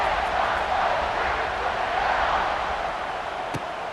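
A stadium crowd roars steadily before kickoff in a college football video game between Arkansas and Ohio State, a dense, continuous wall of cheering with one sharp thump near the end.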